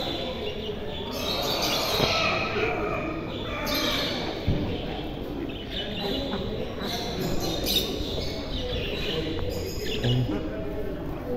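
Scattered bird chirps and calls, including chickens, ring out at an outdoor animal market in Carmagnola, Italy, over a busy background with people talking nearby.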